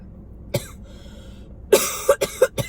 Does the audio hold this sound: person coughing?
yes